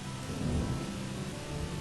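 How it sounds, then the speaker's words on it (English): Steady rain falls in the Viking settlement game Banished North, a dense continuous hiss with a low rumbling undertone, without any voices. "Oh, it's raining again."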